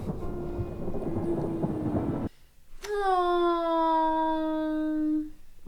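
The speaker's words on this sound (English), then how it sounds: "In the middle of a thunderstorm." Thunder from a thunderstorm scene in the 2016 film Me Before You, heard as a muffled rumble under noise, then a sharp crack after a short silence, followed by a sustained tonal swell that dominates the end.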